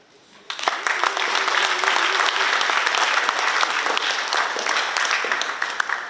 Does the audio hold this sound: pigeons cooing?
no